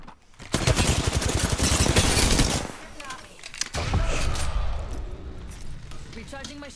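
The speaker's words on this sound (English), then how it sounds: "Yeah, we're getting shot at." Rapid video game shooter gunfire rattles in loud machine-gun bursts for a couple of seconds, then fades to scattered shots and clinks while a voice talks over it.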